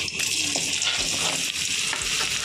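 Potato pieces fry in a spoonful of oil in a pan, giving a steady, close sizzle with soft stirring scrapes and small crackles, with no talking.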